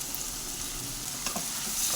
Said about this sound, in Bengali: পেঁয়াজটা ভালো করে একটু লাল লাল মতো ভেজে নেব।